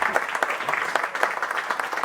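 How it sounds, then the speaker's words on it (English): A crowd at a cybersecurity meetup gives a speaker a big round of applause, a short burst of fast, busy clapping at a steady level. "Another huge round of applause for Scott"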